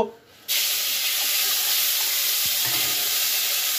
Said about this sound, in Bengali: এখন এটাকে আমি একটু ভেজে নেব